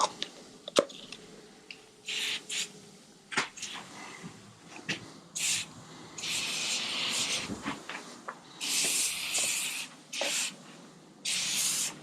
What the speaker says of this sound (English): I'm spraying it all over the brakes